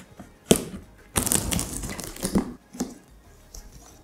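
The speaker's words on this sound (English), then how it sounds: "let's just quickly cut the seal" Knife slicing the tape seal on the cardboard box of a Philips PowerPro bagless vacuum cleaner, close-up scratchy rips and crinkles in a few short bursts.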